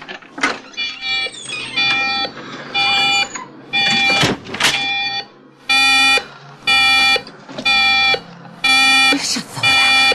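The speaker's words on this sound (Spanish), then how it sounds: "No me dijo que hubiera alarma." An alarm beeps in loud, regular bursts of bright repeated tones, steady and insistent through the second half, after earlier shouted exclamations and rustling in an indoor scene.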